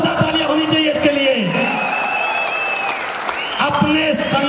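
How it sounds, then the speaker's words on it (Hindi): Loud, sustained applause from a crowd at a motivational business meeting fills the room, with a speaker's voice talking over the clapping. "जोरदार तालियां होनी चाहिए इसके लिए।"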